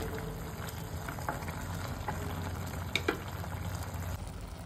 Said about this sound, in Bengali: এগুলো এবার একটু সেদ্ধ হবে আর একটু।